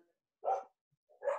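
A dog gives two short, sharp barks about a second apart, fairly close and clear against silence.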